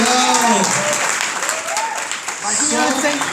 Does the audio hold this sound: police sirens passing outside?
no